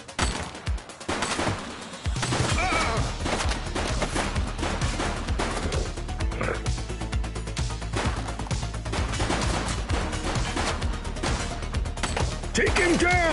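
Rapid bursts of gunfire from a shooting suspect in a police video game, dense crackling shots and mechanical clatter over music and game noise for several seconds, loud throughout.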